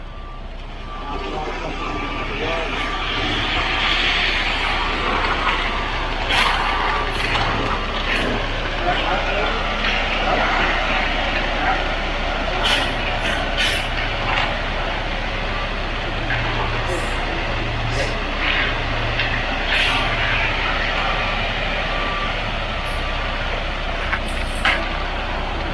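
A concrete truck reverses on a construction site, its backup alarm beeping in a steady repeating pattern over the low rumble of a diesel engine, with voices talking nearby.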